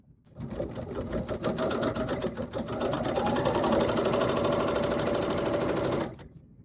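A serger sewing machine runs steadily for about six seconds, a fast even mechanical whir with rapid stitching clatter as it sews fabric, close and alone, starting and stopping abruptly.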